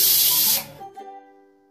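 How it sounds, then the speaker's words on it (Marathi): A loud burst of hissing steam rushes out of a pressure cooker for about half a second, then cuts off, leaving faint metallic ringing and clinks that fade away. "थोडा कुकर थंड झाला, याची वाफ निघाली की आपल्याला झाकण उघडायचं आहे।"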